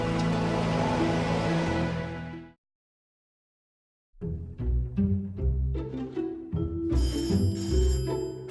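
A telephone rings loudly, falls silent for a moment, then returns amid other tonal electronic sounds and musical chimes.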